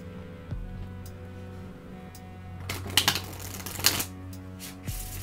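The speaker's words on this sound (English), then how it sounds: "Oh, that was a good shuffle." Quick riffling bursts of tarot cards being shuffled, two or three crisp flurries close by over a quiet background hum.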